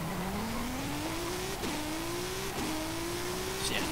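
A 1991 Toyota Chaser GT Twin Turbo in Forza Horizon 5 accelerates hard, its engine note climbing steadily through three gear changes with brief dips at each shift, loud and continuous with no talking.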